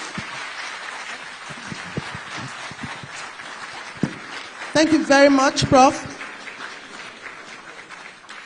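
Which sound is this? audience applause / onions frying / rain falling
audience applause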